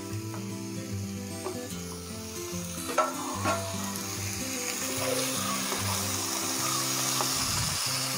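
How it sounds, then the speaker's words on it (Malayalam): Marinated chicken pieces hit a hot pan for a chicken curry and sizzle steadily, with scraping stirs and light utensil clatter over a constant frying hiss, close and moderately quiet. "നേരത്തെ മാരിനേറ്റ് ചെയ്ത് വെച്ച, ഒരു മണിക്കൂർ സെറ്റ് ചെയ്യാനായിട്ട് വെച്ചത് മാരിനേറ്റ് ചെയ്ത് വെച്ച ചിക്കൻ ഇതിലേക്കായിട്ട് ചേർക്കുകയാണ്"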